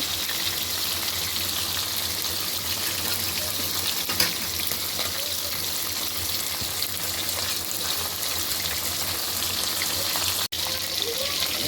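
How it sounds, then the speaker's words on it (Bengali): Fish frying in hot oil, a steady, close, broadband sizzle that carries on unbroken with a few small pops and no talking. "মাছটা একদম লাল লাল করে ভেজে নেব।"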